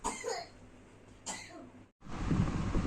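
A young girl coughs after eating ice cream, a few short harsh bursts and throat-clearing sounds close by, followed by a louder rough burst of noise at the end.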